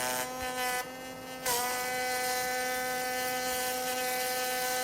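A router cuts a profile along long walnut strips, giving a steady high whine that dips briefly as the bit bites into the wood, then settles into an even, moderately loud drone.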